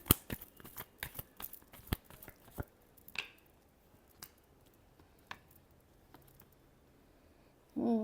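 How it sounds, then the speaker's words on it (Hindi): Tarot cards are shuffled close by in a quick series of sharp riffling flicks and taps, busiest at first and then thinning to sparse soft clicks, with a brief louder rustle at the end. "last shuffle"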